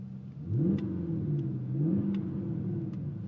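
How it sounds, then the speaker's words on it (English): A Porsche Panamera GTS V8 engine in Sport Plus mode revs up twice in smooth rising sweeps, a deep mid-range growl heard from inside, with faint clicks over a steady hum. "it's very difficult to beat a V8 burble"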